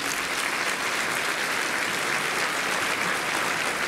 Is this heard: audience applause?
yes